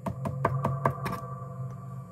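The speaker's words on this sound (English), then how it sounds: "This is your reverb completely cranked up." Fully cranked reverb on a Fender George Benson Hot Rod Deluxe tube guitar amp, a string of quick plucked notes washing into a long ringing tail over a steady low hum.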